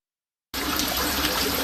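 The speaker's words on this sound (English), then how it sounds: "the worst water main break in Detroit's history" Water gushes from the worst water main break in Detroit's history during freezing weather, starting abruptly after a short silence and continuing as a steady, loud rush with no talk.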